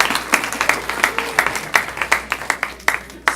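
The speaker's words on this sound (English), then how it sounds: "Let's give him a round of applause." A congregation at a Shabbat service claps for its cantor, a brief round of steady, moderately loud applause from a room full of people.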